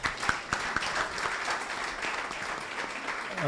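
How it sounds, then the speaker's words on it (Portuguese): Audience applause at a Portuguese-language health services talk, steady clapping from a seated crowd filling the room, fairly close and even throughout with a few sharper individual claps near the start. "Uma salva de palmas."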